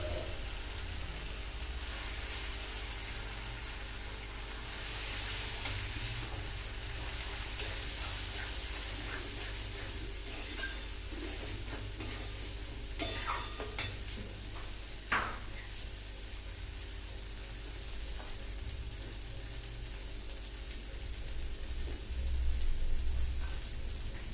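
Fish roe fries in a pan with chili powder, giving a steady, soft crackling sizzle with occasional louder pops and stirring scrapes.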